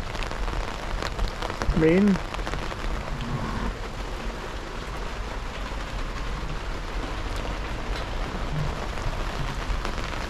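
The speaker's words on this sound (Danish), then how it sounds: "Men det regner, og det tordner faktisk også." Rain falls in a continuous soft hiss through the whole stretch, and a brief low rumble like far-off thunder surfaces near the start.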